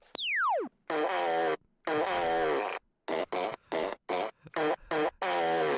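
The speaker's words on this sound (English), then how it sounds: "Gene has this like megaphone that also makes laser noises and fart sounds" A cartoon megaphone toy blares a descending laser-like zap, then a run of loud, buzzy fart noises, some long and drawn out, others short and choppy in quick succession.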